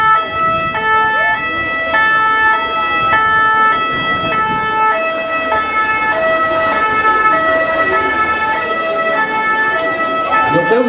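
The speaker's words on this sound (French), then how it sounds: "Donc là vous avez une équipe de secours qui arrive avec une ambulance." An ambulance siren wails loudly and close with a repeating two-tone pattern as the vehicle arrives at a Red Cross first-aid drill at a school, over a low road rumble.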